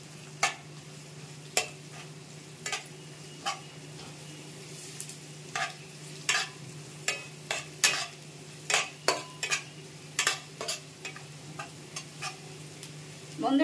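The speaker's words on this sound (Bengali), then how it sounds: "আর রসুনটাও দিয়ে দিচ্ছি। আবার আমি নাড়া দিয়ে নেব কিছুক্ষণ।" Garlic frying in a pan with a steady low sizzle, stirred with a utensil that lands a string of sharp scrapes and taps against the pan, fairly close and with no talking.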